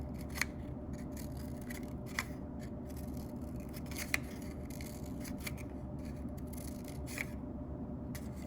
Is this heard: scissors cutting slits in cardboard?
yes